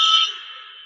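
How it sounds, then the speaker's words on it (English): A quiz time-up buzzer sounds once in a single sustained electronic tone, loud at first and then fading over under a second, with no one talking. "Right as the buzzer sounded"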